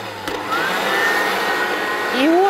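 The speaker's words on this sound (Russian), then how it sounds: "Запускаем эту всю красоту, включаем мясорубку" An electric meat grinder whirs steadily as it minces sweet bell peppers, garlic and parsley, a loud continuous motor drone with a rising whine near the end, no talking.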